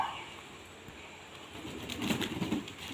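Pigeons cooing softly with a burst of wing flapping toward the end, fairly close, over a steady background hum.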